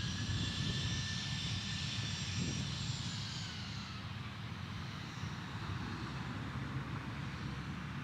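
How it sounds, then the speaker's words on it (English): Boeing 717 jet landing on runway 13 right at Dallas Love Field, a steady distant engine roar with a faint whine overhead, gradually easing as the aircraft passes, no talking. "we got the 717 landing on runway 13 right"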